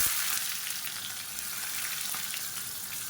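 Sliced shallots and whole unpeeled garlic cloves fry in oil in a pan, giving a steady, close, even hiss that stays constant throughout.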